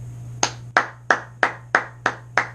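A single person claps hands seven times in a slow, even rhythm, each clap sharp and close with a short room decay, over a faint steady hum.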